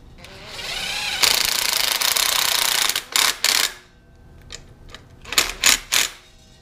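A power tool works on a custom LS engine pulley setup: a long buzzing run, then several short sharp bursts of rattling impact, loud and close, with brief quiet gaps between them.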